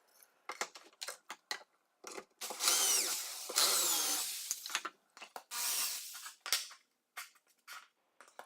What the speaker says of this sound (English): I could match and drill the holes in the corresponding vertical pieces.